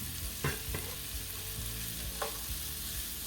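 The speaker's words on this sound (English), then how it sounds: "start throwing in these veggies, and I'm just going to let these cook together just for a minute" Diced potatoes and vegetables fry in a pan for breakfast potatoes, giving a steady, fairly faint sizzle with a few brief scraping stir strokes.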